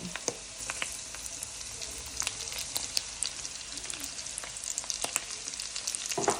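Garlic frying in rendered pork fat for Filipino pork humba, a steady close sizzle with dense crackling pops and spits throughout, no talking.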